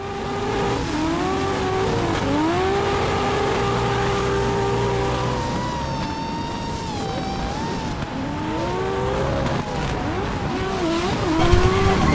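Drift cars in a Pro League round of a drift camp at a Lithuanian circuit, engines revving loudly with wavering pitch as tyres squeal and scrub continuously throughout, no voices.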